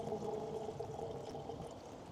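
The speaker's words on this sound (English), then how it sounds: "pour some distilled water into there" Distilled water poured into the coolant reservoir of a Mercedes-Benz GLA 250 during a coolant flush: a faint, steady, continuous trickling pour with no speech.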